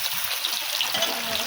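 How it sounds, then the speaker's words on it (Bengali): Pointed gourd pieces frying in oil in a wok, giving a steady, close hiss and sizzle throughout with no talk. "এবারে আমি কড়ার মধ্যে কিছুটা তেল দিয়ে দিয়েছি, দিয়ে এর মধ্যে আমি পটলগুলো দিয়ে দেবো, দিয়ে পটলগুলো একটু ভালো করে ভেজে নেব"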